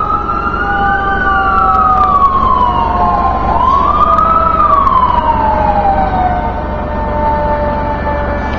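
A fire engine siren wails loudly and close by on a New York City street at night, its pitch sweeping up and down in long slow cycles over a rumbling engine.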